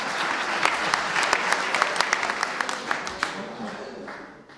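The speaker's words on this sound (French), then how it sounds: "c'est ces applaudissements, c'est le plus beau dans l'histoire" A crowd at a ceremony for the football club FC Schëffleng 95 breaks into warm, dense applause with distinct sharp claps poking through, gradually fading toward the end.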